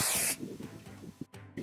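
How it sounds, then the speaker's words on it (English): A short burst of hairspray hisses onto styled hair for about a third of a second, close and fairly loud, followed by quiet handling sounds. "A little hairspray."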